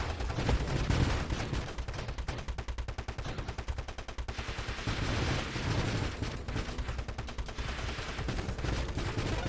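Ship weapons in the space shooter Nova Drift fire continuously in dense rapid bursts, a loud unbroken barrage of gunfire-like blasts with no talk over it.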